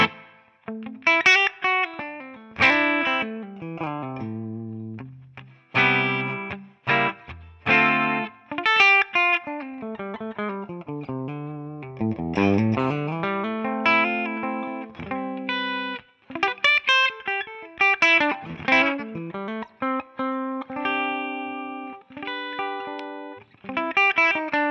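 An electric guitar runs through a Tonex pedal modelling a Morgan Dual 20 EF86 amp on its normal channel at the lowest gain setting. It plays a loud, clean, slightly driven phrase of chords and single notes, with pauses between runs and no talking.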